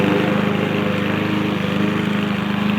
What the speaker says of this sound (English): You want your dog to get used to that sound of the lawnmower